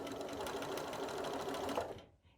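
Close, steady whirring of a sewing machine stitching double fold bias binding around a small circular curve, running continuously for about two seconds before stopping abruptly.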